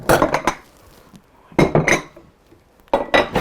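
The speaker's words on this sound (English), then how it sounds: "So give those blueberries a stir" Drained blueberries stirred in a bowl: three bursts of clinking, scraping utensil-on-bowl contact separated by quiet gaps, close and fairly loud with no talking.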